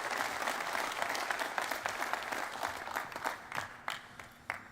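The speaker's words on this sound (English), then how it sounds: "It's rare that everybody claps for a coach" Audience applause greeting new Maryland men's basketball head coach Buzz Williams at his introduction: a sustained wash of clapping that gradually tapers, individual claps standing out more clearly toward the end.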